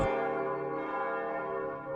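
Church bells ringing, one loud, rich strike followed by a long, sustained metallic hum that slowly fades over the rest of the clip.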